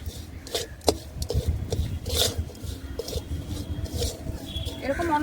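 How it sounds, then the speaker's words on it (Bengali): A utensil scrapes and rubs against a pan while sugar melts for homemade malai ice cream, with irregular strokes close by and soft, uneven noise between them. "অনবরত নাড়া দিতে হবে।"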